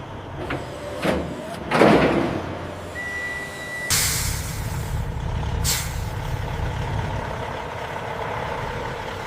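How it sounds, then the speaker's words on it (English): Trucks at a papaya processing factory release sharp hisses of air brakes, a few bursts near the start and a loud one midway, followed by a steady idling engine rumble. "Trucks are dispatched with GPS tracking, heading to markets across the USA."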